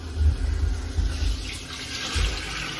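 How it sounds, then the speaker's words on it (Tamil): Water is poured into a pot while cooking prawn biryani, a steady pouring wash with a few heavier low surges, close and moderately loud, with no talking. "Now we are going to add water."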